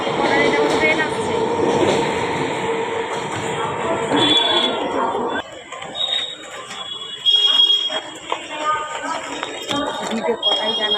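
A train pulls into a busy station, its rumble and rolling clatter steady and loud, with bright, alarm-like tones above and a fuller noise that thins midway as crowd activity continues.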